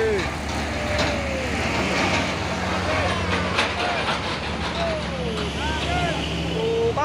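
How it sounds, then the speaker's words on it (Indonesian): A container trailer truck rumbles past nearby with a steady, heavy engine drone and road noise. Someone talks over it throughout. "Sama truk trailer ini yang membawa apa ini kontainernya."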